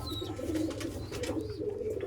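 Pigeons coo in a loft, a steady low murmur of overlapping calls that runs throughout, fairly close, with a faint chirp near the start.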